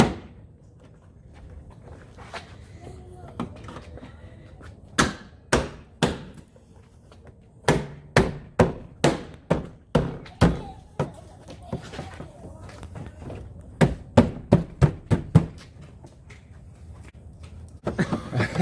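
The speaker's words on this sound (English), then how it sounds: "Sometimes you have to kind of push it to align it, and then just pop them back into place." Plastic trunk trim clips on a car are pushed and popped into place, giving a series of sharp, close clicks and knocks in uneven bursts, some in quick runs, over faint handling noise.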